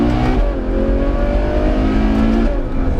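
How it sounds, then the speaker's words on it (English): Ferrari FF pulling away hard from a standstill start on soft tarmac, a loud close engine note rising steadily in pitch with strong low rumble throughout, no talking. "I've got a little bit of a standstill start here, so get onto that softer tarmac and let's see what you got,"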